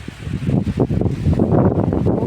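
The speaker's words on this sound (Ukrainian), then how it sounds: "Ох, а вітер, ох, а вітер." Strong gusty wind buffets the microphone outdoors near a garlic harvest, a loud rumbling roar that swells and surges continuously with low, uneven gusts.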